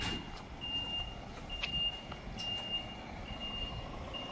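A parking vehicle sounds steady, evenly spaced reversing beeps at moderate distance over a low engine rumble and street background, with no talk.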